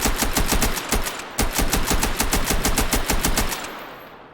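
A custom Zenitco-platform AK rifle firing full auto in the VR shooter H3VR: a loud, rapid, evenly spaced burst of shots with a short pause early on, then a final round and quiet fade as the magazine runs empty.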